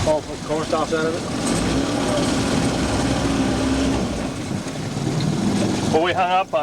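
Boat outboard motor running steadily through flood water with floating corn stalks during the 1993 Quincy, Illinois flood, a continuous droning hum with people talking nearby at the start and end.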